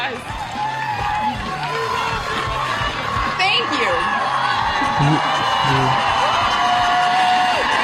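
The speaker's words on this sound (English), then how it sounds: "The applause." A studio audience on a radio talk show cheers and whoops amid crowd noise, with voices talking over it and a brief thank-you spoken.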